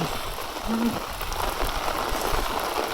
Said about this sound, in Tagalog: grabe ang ulan. Parang may bagyo. Oh. Sobrang ulan, oh.